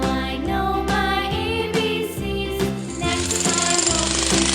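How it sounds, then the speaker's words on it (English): A construction jackhammer pounds in rapid, steady bursts, loud and close, over a musical backing track. "Jackhammer."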